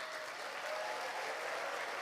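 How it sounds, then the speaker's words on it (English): Banquet guests seated toward the back of a large room clap together, a steady, even wash of applause heard from a slight distance, moderately loud and without any talking. "can I hear the clap from the people at the back?"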